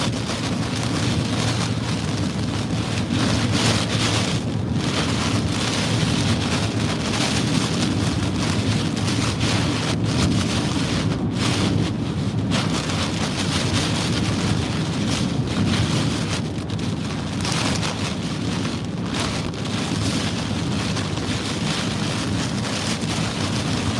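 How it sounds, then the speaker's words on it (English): Hurricane Francine's strong wind roars steadily into a microphone in Louisiana for the whole stretch. The buffeting is loud and constant, like a gale, with no speech over it. "Gosh, that wind's crazy."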